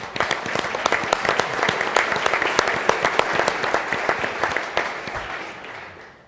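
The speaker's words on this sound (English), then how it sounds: "we definitely need you to stand up so we can give you a round of applause" Attendees at an annual facilities management meeting and exhibition in San Francisco break into loud, close applause with crisp individual claps, dense throughout before tapering off at the end.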